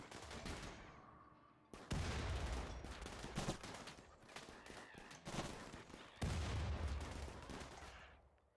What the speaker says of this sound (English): them firing at the urchins instead of our shield is not a bad